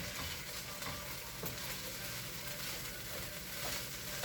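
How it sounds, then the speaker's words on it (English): Egg being stirred into fried rice in a hot pan, a steady close sizzle with soft scraping stir strokes running throughout, no voices. "Put your egg right in there. Give that a nice stir."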